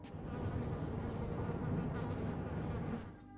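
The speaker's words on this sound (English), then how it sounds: "it's hard to ignore the sound of buzzing flies hovering nearby" Flies buzzing close by in a grim room of a video game, a steady droning hum that holds for about three seconds before fading slightly.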